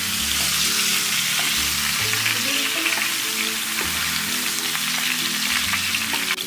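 A mutton leg frying in ghee in a large pot, sizzling loudly and continuously over background music.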